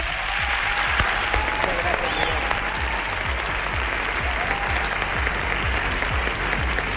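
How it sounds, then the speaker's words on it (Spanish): Audience at a talk on strange religions and spirits breaks into loud, dense applause, steady clapping from many hands that holds without a break, near and full. "Yo también pido un aplauso al responsable de que estemos aquí"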